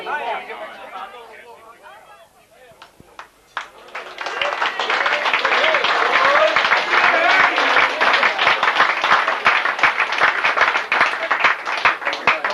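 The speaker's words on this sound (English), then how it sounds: "I hope the applause is as rapturous at the end as at the beginning." A crowd at a carol event breaks into loud, sustained applause after a few seconds of murmured talk, the clapping dense and rapturous, building and holding strong to the end.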